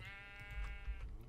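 Sheep bleating in the Minecraft video game: a single sustained, wavering bleat, close and fairly quiet, with no talk over it.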